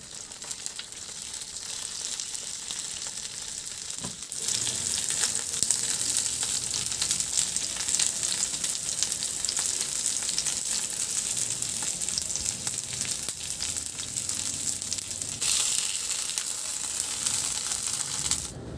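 A chicken mixture fries in a pan with a continuous close hiss and crackle that jumps louder after a few seconds and holds steady, with no talking.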